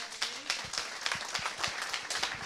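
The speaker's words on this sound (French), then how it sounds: "On peut les applaudir." An audience at a commerce competitiveness award event applauds, a light, sparse round of clapping with distinct hand claps repeating steadily throughout.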